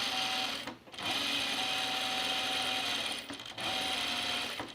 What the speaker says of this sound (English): So we're just going to edge stitch it.